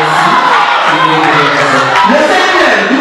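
A crowd at an ESCOLA student contest ceremony cheers and shouts loudly, a dense roar of voices with whoops rising near the end rather than distinct clapping.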